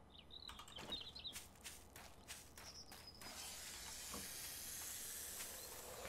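A snake hisses in the video game 7 Days to Die, a faint airy hiss that swells into a steady, rushing breath of noise, preceded by some soft scattered game sounds.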